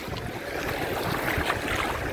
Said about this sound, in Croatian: Ocean, ocean